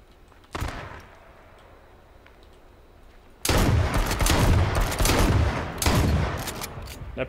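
A loud burst of rapid gunfire in the video game H1Z1 erupts after a single earlier shot, continuing densely for several seconds with sharp repeated cracks and booms.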